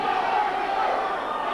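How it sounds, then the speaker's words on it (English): Dense, steady roar of an indoor arena crowd at an independent wrestling show, a continuous loud wash of massed voices with no break. "This crowd is deafening here."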